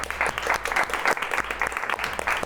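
Applause from a small group of participants in a workshop simulation exercise, steady clapping at close range throughout, with a brief pause partway through and no talking over it.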